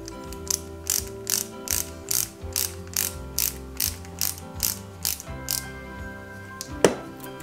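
A small screw is driven into the frame of a Porsche 917KH scale model, producing a quick series of about a dozen sharp ratcheting clicks up close, ending in one louder snap.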